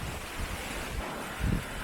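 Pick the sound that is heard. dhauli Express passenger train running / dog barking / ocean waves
ocean waves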